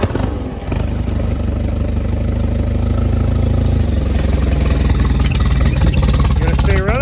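An Allis Chalmers WD45 tractor engine is cranked on choke and catches, running with a steady low chugging that stays loud and close for the whole stretch, with a voice speaking briefly near the end.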